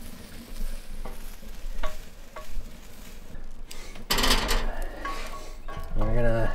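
Ground venison browns in a pan with a crackling sizzle, punctuated by spatula scrapes and clanks against the pan, growing louder and busier toward the end.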